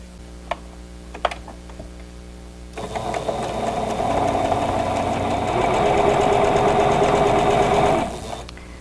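A sewing machine stitches quilt block seams for a vintage Diamond Star block, starting after a few sharp clicks and running continuously for several seconds with a steady mechanical whir before stopping.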